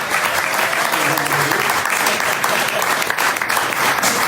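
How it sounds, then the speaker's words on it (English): Loud, full audience applause at a book launch party for Eric Connor, dense clapping sustained evenly throughout with a faint crowd murmur underneath. "Give it up for Eric Connor."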